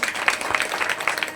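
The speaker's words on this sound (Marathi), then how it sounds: "पुन्हा एकदा जोरदार टाळ्या" Loud applause from an audience at a devotional Bhagavat gathering, a dense crackle of many hands clapping steadily throughout, near and unbroken.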